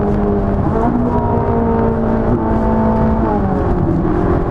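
A Ferrari 458 Italia with a full-pipe exhaust accelerates hard in race mode, a loud, close, steady engine howl whose pitch climbs and dips through gear changes, with no talking.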